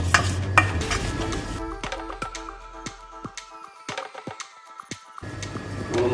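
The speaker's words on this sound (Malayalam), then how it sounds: "ഇത് നന്നായി മിക്സ് ചെയ്യാം." A spoon stirs a chicken roll filling mixture in a bowl, with salt, breadcrumbs and vinegar added. Close utensil clicks and scrapes repeat at an uneven rhythm, with a softer stretch midway and no talking.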